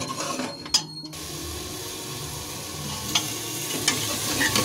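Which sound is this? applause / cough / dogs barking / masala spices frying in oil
masala spices frying in oil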